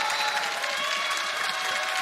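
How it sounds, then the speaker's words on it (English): A crowd at a Berlin League of Legends esports arena applauds, a dense, steady wash of clapping lasting the whole brief moment, with no talk over it. "That's the beautiful crowd."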